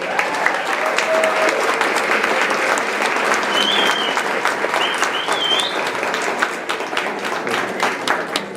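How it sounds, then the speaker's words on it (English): An audience at a school board gathering applauds the Briargate Elementary Choir, a full, sustained burst of clapping with a few faint voices and whistles mixed in, holding strong before easing slightly at the end. "let's give a big round of applause for the Briargate Elementary Choir"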